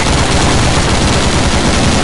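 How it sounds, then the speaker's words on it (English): Rapid, dense automatic gunfire from the Nintendo DS game Call of Duty: Modern Warfare: Mobilized, loud and sustained without pause. "The gunfire sounds realistic"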